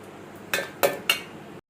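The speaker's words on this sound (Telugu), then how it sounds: "ఇదిగోండి మిక్సీ జార్లో వేస్తున్నాము చూడండి" Ingredients drop into a steel mixer jar in three sharp clattering knocks in quick succession, close and alone, before an abrupt cut.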